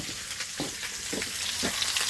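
Pork lard sizzling and crackling in a frying pan, a steady close hiss with a few brief pops and bursts of spatter, no voices.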